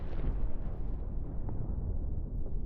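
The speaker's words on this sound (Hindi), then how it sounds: "एक के बाद एक कई धमाके से दहला है ये शिराज शहर" Explosions from airstrikes on the city of Shiraz, Iran, heard as a continuous deep rumbling roar with heavy low booms rolling together, loud and sustained without a break or any voices.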